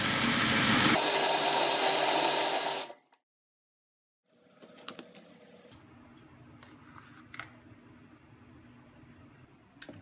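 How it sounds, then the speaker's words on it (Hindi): Cooled apricot chutney is blended in a mixer grinder jug. A loud, dense whirring burst runs for about two seconds, cuts off sharply into silence, then gives way to quieter clattering handling sounds. "इसको ठंडा करके ग्राइंडर जग में डालकर अच्छी तरह ग्राइंड कर लें"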